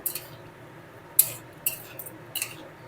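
Metal spoon scrapes and clinks against a pan while cauliflower curry is stirred, a few sharp taps over a low kitchen hiss.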